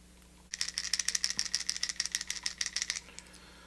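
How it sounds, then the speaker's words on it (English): A crankbait fishing lure with subtle chartreuse accents, shaken so a single ball bearing rattles inside, giving a quick run of sharp, close clicking rattles for about two and a half seconds before stopping. "sounds like it's got like a single ball bearing in there."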